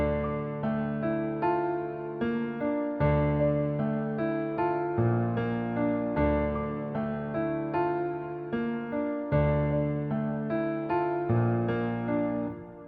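Piano melody built in FL Studio with an added rhythmic layer of repeated top notes, a steady stream of bright, evenly pulsing chords and notes playing alone for about thirteen seconds.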